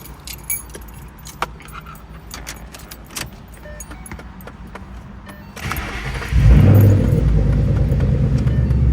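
Keys jingle and clatter for several seconds, then a 2011-2014 Ford Mustang GT engine cranks and roars to life at about six seconds, settling into a loud, rumbling idle.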